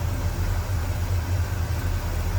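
A warmed-up 1967 Pontiac LeMans engine, fitted with an Edelbrock 4-barrel carb and new exhaust, holds a steady low idle, its deep rumble pulsing evenly and up close with no one talking.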